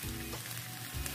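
Fish curry sautéing in a pan gives a brief, steady sizzle with a soft low rumble underneath, close by and with no talking.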